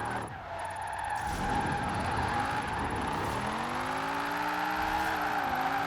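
A car with drag tyres on a drift build slides sideways in Forza Horizon 4, its engine droning in rising and falling harmonics under a continuous loud tyre skid, close and sustained.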